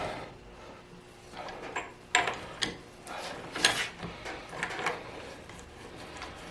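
Ratchet with a 32mm socket loosening the straps on a Mercedes W109/108 swing axle, giving a few scattered mechanical clicks and clunks at close range with no talking.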